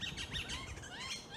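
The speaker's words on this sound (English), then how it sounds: "There are the birds up in the trees as well." Magpies call from up in the trees, a steady run of bright chirps and chattering calls layered over outdoor ambience, moderately near and continuous with no talking.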